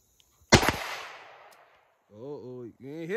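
A single sharp gunshot aimed at a steel target outdoors, a loud crack with a decaying tail, followed by someone talking.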